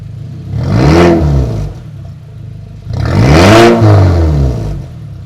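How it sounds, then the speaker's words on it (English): A Mazda 3 with its midpipe removed revs twice, close and loud, each rise swelling to a raspy roar and falling back to idle, with no talk. "Of course, you have to rev the car when the midpipe's off"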